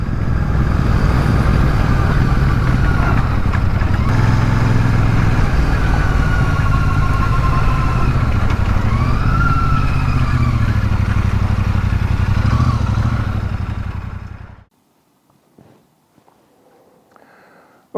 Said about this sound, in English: Sound alone convinces you that you're on board an air and oil cooled parallel twin.